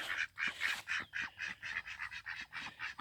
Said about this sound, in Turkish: Ördeklerimiz var burada